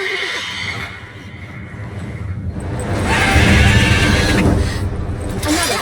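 A mare neighs in The Witcher 3: Wild Hunt, a loud shrill whinny rising and trembling near the listener, with hoof clip-clop and game ambience beneath.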